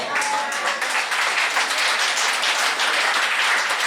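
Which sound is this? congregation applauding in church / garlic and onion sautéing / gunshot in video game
congregation applauding in church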